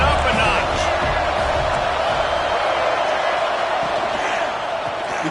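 A football video game stadium crowd roars in a steady, dense wash of cheering throughout, loud and continuous with a slight swell near the start and a small dip toward the end, a commentator's voice running over it.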